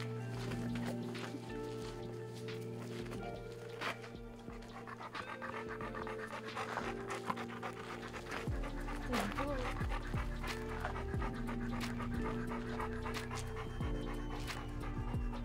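A dog pants rapidly and rhythmically close by, with occasional faint whimpers, while people talk quietly throughout.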